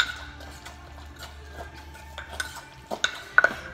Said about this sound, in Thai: ตำเนื้อตำมะเขือให้เข้ากันกับเนื้อปลานะคะ